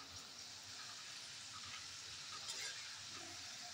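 Okra fries in oil with a faint, even, continuous sizzle that sounds like light rain, low in level and steady throughout without any distinct individual noises.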